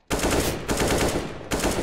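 Loud automatic gunfire from a shooter video game on the Mirage map, three close bursts of rapid shots separated by brief gaps.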